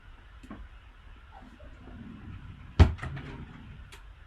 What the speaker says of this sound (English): Probably have a ruler in one of these drawers here.